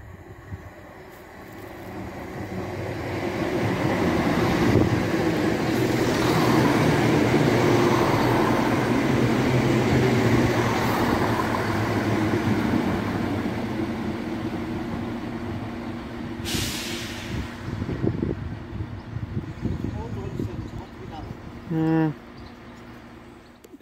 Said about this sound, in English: Now arriving is a ScotRail Class 170 on the 2K09 from Edinburgh Waverley to Glenrothes-Swift-Thornton via Kirkcaldy.